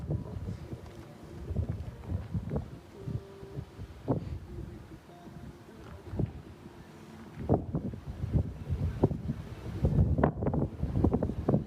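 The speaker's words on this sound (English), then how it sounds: "it's pretty windy, so it's going to get loud" Strong wind on a reservation on Indigenous Peoples Day, gusting and buffeting the microphone in loud uneven bursts and low rumbles, heaviest toward the end.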